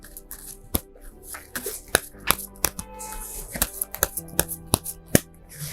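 Tarot cards are shuffled and drawn, a series of crisp, sharp riffling slaps and flicks at an irregular pace. The sound is close and moderately loud, with no talking.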